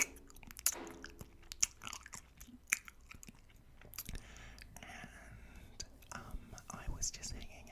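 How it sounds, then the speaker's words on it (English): A green gummy bear is chewed close to the microphone, giving soft, wet, squishy bites and smacking mouth sounds in an irregular rhythm, quiet and intimate, with faint breathy whispers in between. "I'm just gonna start chewing on this green gummy bear"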